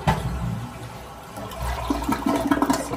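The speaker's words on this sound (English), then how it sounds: "Gonna flush it to see how, see if it works." An American Standard toilet in a hotel bathroom flushes loudly and close by, a steady rushing swirl of water that lasts the whole few seconds with no speech.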